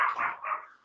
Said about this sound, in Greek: κάτσε τα σκυλάκια να ηρεμήσουν λίγο. Φασαριώζει.